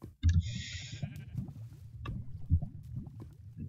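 A sheep bleats in a modded survival video game, a single wavering cry near the start over a steady low rumble of game ambience, with no voices.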